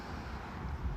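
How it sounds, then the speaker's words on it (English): Wind buffets an outdoor microphone with a dense, low rumbling roar that stays steady and fairly loud through the whole moment, with nothing else standing out. "Sorry about the wind."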